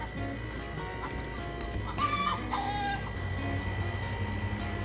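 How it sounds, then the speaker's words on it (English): Chickens on a small family farm cluck and murmur intermittently at moderate distance over steady outdoor background noise, with brief sharper calls standing out midway. "excuse the chickens"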